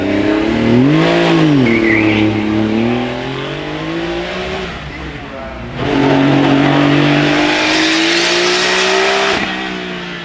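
A 1991 Singer-reimagined Porsche 911, a 964-era car, drives past at Goodwood Festival of Speed, its engine note rising and falling loudly in two strong revving passes with a dip in between, a voice talking over it.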